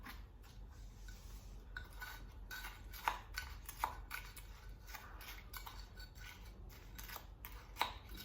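Bath salts being stirred with rose petals in a bowl give a soft, continuous gritty scraping and rustle, with a few sharper clinks of the spoon against the bowl, faint and close with no talking.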